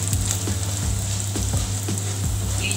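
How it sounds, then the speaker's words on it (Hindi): Okra (bhindi) frying in plenty of oil with crushed chili, a steady loud sizzle broken by a few soft stirring scrapes and knocks at a regular pace. "अभी इस स्टेज पे हम 1/2 टीस्पून कुटी हुई मिर्च डाल रहे हैं और इसको 1 मिनट फ्राई करेंगे"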